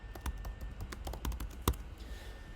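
Typing on a computer keyboard, with a steady run of small, close key clicks in an irregular rhythm and one sharper, louder tap near the end.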